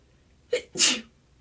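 A single sharp sneeze, a quick intake followed by a burst, close and clear against near silence.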